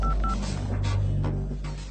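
Phone dialing tones beep in short repeated pulses over a busy background of steady hum and noise, the beeps clear but set back in the mix.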